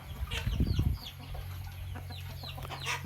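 Chickens cluck and murmur close by, one louder burst near the start, with faint background noise and no speech.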